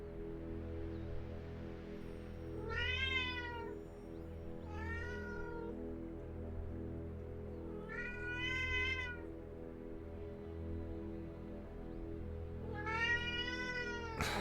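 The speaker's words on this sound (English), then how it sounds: "go outside with all the meowing and stuff" A cat meows repeatedly in four separate drawn-out calls over a steady low background hum, fairly close and clear, with no talking.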